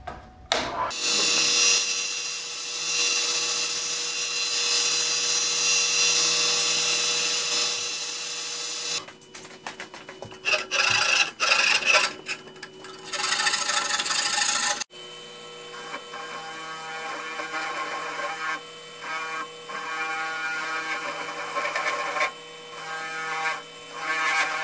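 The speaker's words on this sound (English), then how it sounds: "now that we got the basic shape done, what we can do is we can come back with our sandpaper and smooth it up" Sandpaper rubs over a wooden saltwater popper lure in a steady close scratching hiss, with pauses, changes in stroke and a faint background hum.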